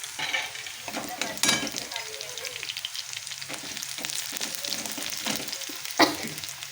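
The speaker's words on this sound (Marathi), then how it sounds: "तर इथे कांदा थोडासा ब्राऊन रंग झाला" Onions frying in a pan for a tomato chutney, a steady close sizzle broken by spatula scrapes and stirring clatter, with one sharper clink near the end.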